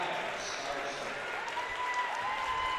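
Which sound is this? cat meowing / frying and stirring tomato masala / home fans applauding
home fans applauding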